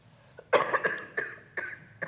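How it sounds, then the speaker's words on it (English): A person coughs several times in a conference room, sharp close bursts in a quick irregular series over about two seconds, with no talk over them. "And I can cough."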